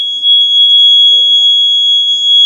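A fire alarm sounds as a fire suppression system detector zone is triggered, giving a loud continuous electronic tone that holds steady for the whole stretch, with faint background noise beneath.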